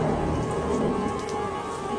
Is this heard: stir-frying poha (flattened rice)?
no